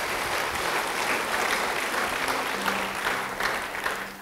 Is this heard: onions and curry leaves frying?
no